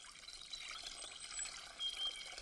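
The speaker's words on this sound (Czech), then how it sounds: "To je jen obyčejná voda a žádný poklad." Faint trickle of ordinary water in a quiet woodland glade, a soft, steady babble that swells slightly near the end, with no voices.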